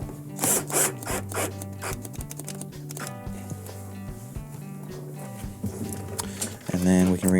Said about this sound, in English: We can reinstall our Phillips screw.